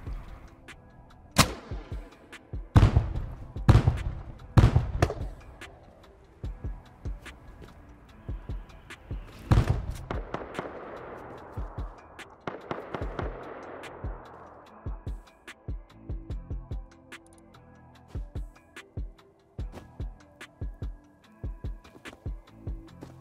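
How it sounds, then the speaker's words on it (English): Rocket blasts from a raid in the survival game Rust: several sharp, booming explosions in quick succession over the first ten seconds, then a rolling rumble and scattered quieter impacts, with no talking. "They must have so much rockets."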